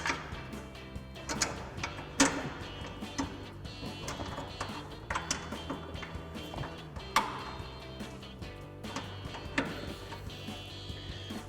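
Irregular light ticks and small metallic clicks come from a bolt being threaded back into the double bolt plate of a factory-style rear bumper on a 2014-2018 Silverado or Sierra 1500. The sounds are fairly close and quiet, and no one speaks.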